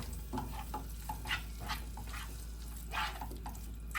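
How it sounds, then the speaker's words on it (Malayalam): Shrimp masala with tomato sautéing in a pan, a continuous frying sizzle with repeated scraping and stirring strokes of a spoon, close and fairly quiet, with no voices. "പച്ചമണം മാറുന്നിടം വരെ ഒന്ന് ചൂടാക്കി വഴറ്റിയെടുക്കാം കേട്ടോ"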